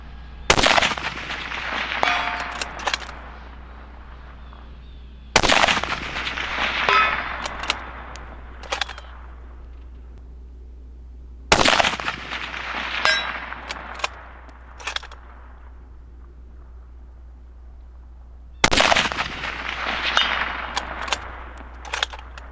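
Rifle shots fired at steel plates 385 yards downrange: four loud, sharp reports spaced several seconds apart, each followed by a ringing decay and faint distant plate impact, no talk.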